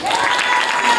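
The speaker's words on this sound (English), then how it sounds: "I want y'all to give applause for them" Audience applause for two backup dancers at a youth talent show, a short burst of clapping and cheering that is loud and close, with voices mixed in.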